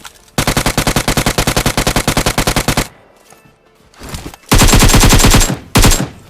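Automatic weapons fire in a battle royale video game, a long rapid burst of close, loud shots, a brief pause, then further short bursts in quick succession.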